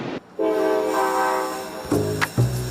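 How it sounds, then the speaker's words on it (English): A passenger train pulls out on its run from Toronto to Ottawa, a steady rumbling rolling drone close by, with brief sharp clanks and a low horn-like tone near the end, no voices. "As the train rolls out from Toronto to Ottawa"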